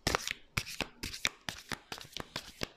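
Tarot cards shuffled by hand, close up: a steady series of about seven crisp riffling bursts with brief pauses between them, no talk over them.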